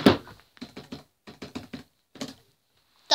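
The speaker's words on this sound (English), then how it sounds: "I'm just gonna have to type this for my password first." Someone types a password on a computer keyboard in several short bursts of quick, crisp key clicks with brief pauses between them, close and clear with no talk.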